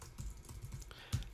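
Soft, close typing on a computer keyboard, a quick irregular run of light key clicks with one firmer keystroke near the end.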